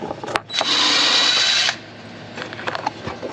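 A power drill works out rivets on the exhaust of a Can-Am Maverick R, giving one loud, close whir of just over a second, framed by clicks and handling clatter before and after.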